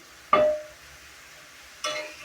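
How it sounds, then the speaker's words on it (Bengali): Cabbage with green chilli and onion stir-fried in oil, heard as two short bursts of sizzling and scraping a couple of seconds apart over a faint background hiss. "গাইস দেখুন আজকে হলো পাতাকপি ভাজি করতেছি সকাল সকাল"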